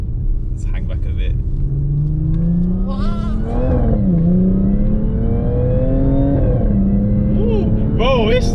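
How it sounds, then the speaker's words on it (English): Tuned Audi A7 3.0 TFSI with MRC tune accelerating hard from inside the cabin, a loud droning engine rising in pitch then dropping at each gear shift, with voices talking excitedly over the engine. "Oh, the shifts though. The downshifts are nice, man."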